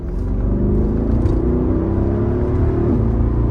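Mercedes-Benz SL63 AMG engine while driving, a loud, steady low-pitched rumble and drone heard from inside, continuous with no voices.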